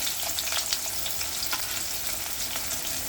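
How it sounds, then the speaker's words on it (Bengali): Thinly sliced onions fry in hot oil for crisp birista, a loud, dense, unbroken sizzle close to the pan with occasional stirring scrapes. "তেল গরম হয়ে গেছে, আমি কিছুটা পেঁয়াজ বেরেস্তা বানিয়ে নেব।"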